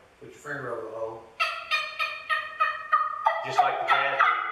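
A turkey trumpet call played with a finger over the hole to stop the airflow yelps out a few drawn notes, then a steady run of sharp, evenly spaced gobbling clucks, close and clear.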